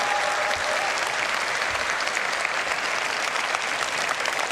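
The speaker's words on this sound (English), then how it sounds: "So please, a round of applause for the developers." A large convention audience of thousands gives sustained, dense applause for game developers on stage at a Star Citizen event. The clapping is loud, even and continuous throughout.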